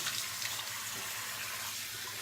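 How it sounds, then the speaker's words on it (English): Running tap water rinsing a face and neck, a steady close rush of flowing, splashing water that stays even throughout. "And then I just rinse it off."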